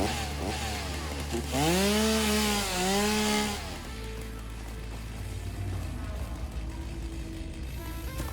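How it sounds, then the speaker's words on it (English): A video game chainsaw in Satisfactory revs up loudly with a rising and falling engine whine for a couple of seconds, then drops back to a steady low idle. "am I collecting it or am I just chainsawing it?"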